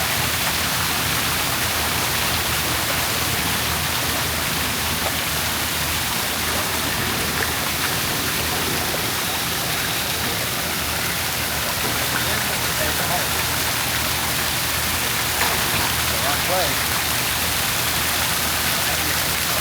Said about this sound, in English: He can hear the sound of the waterfall,